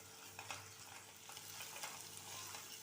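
Two medium onions, very finely chopped, fry quietly in a pan with a soft continuous sizzle and occasional light stirring clicks, faint and close with no talking.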